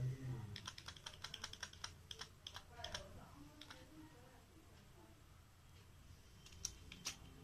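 Rapid typing on a computer keyboard during a computer class, with bursts of quick clacking keystrokes, short pauses, then a few louder isolated key taps near the end, close and fairly quiet.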